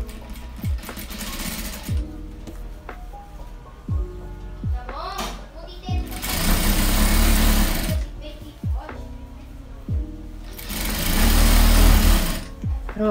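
A sewing machine stitches the hem on a cloth diaper, its motor whirring in several bursts of a few seconds each, with short pauses between runs; someone speaks during the quieter gaps.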